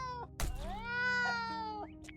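A cat meows in the video game Green Project: one clear, drawn-out, rising and falling meow heard alone and close up, with a short chirp near the end.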